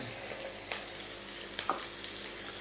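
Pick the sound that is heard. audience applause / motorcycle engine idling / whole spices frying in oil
whole spices frying in oil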